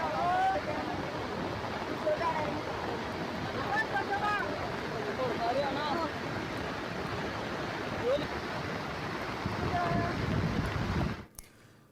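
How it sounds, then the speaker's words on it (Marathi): A dense, continuous roar of rushing water from a flooded waterfall on the Maharashtra–Gujarat border, broad and churning, stopping abruptly at the end. "महाराष्ट्र आणि गुजरातच्या सीमेवर असलेल्या या धबधब्याचं रौद्र रूप कॅमेऱ्यात टिपण्यात आले"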